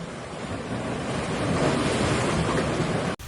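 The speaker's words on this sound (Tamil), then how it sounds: "அப்புறம் கடல் அலைகள் கொந்தளிச்சு சுனாமி வந்து" Turbulent sea waves surging in a cartoon tsunami scene, a steady loud roar of crashing surf and rushing wind throughout, cutting off abruptly near the end.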